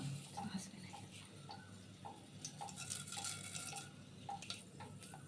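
Mustard seeds crackle and pop in hot oil alongside cinnamon, cloves, bay leaf and peppercorns for a pulao, giving a steady scatter of small sharp pops over a low, continuous sizzling hiss.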